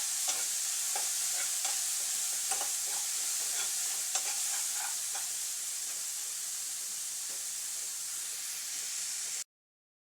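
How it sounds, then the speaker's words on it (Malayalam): Onions being sautéed and stirred in a pan for egg puffs filling, with a steady close sizzle and frequent scraping stir strokes, ending abruptly in silence. "സവോളയെല്ലാം നന്നായിട്ടൊന്ന് വഴറ്റിയിട്ടുണ്ട്"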